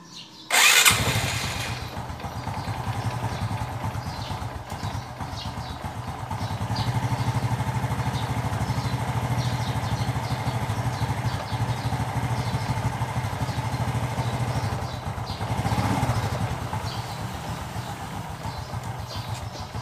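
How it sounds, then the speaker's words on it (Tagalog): A Honda XRM125 motorcycle engine cranks and catches with a sharp burst near the start, then settles into a steady, close idle that runs throughout, with a brief rise in revs near the end. "So, i-start natin yung makina."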